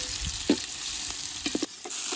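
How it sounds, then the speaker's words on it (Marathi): Onion sizzles and fries in a hot pan as the base for chicken biryani, a steady close hiss with a few soft scrapes and stirs of a spatula against the pan, no talking. "कांदा मस्त परतून घ्यायचा आहे"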